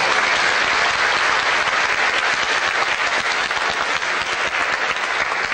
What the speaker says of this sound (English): Please join me in giving Professor Alferov a big hand of applause.